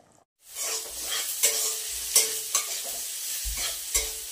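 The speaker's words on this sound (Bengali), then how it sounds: "যেহেতু নতুন আলু, সেই জন্য তাড়াতাড়ি হয়ে যাবে। তো এটা একটু ভালো করে ফুটিয়ে নিয়ে তারপরে নামিয়ে দিব।" New potatoes in a pot on the stove, bubbling and sizzling steadily, with a few louder knocks and stirring scrapes against the pot; no one talks.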